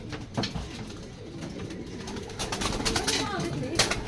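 A racing pigeon coos on arrival at a loft after a long-distance race, soft repeated calls heard close among background rustling and light ambient noise.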